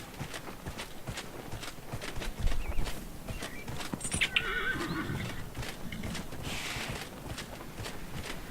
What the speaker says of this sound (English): I'm riding horse.